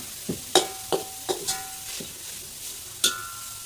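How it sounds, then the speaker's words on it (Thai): A pan of pounded roasted chili paste with minced pork being stir-fried: sharp clanks of a spatula against the wok at irregular intervals over a soft background sizzle, with no talking. "เราก็ใส่พริกเผาที่เราตำที่ละเอียดลงไปนะครับลงไปผัดกับหมูครับ"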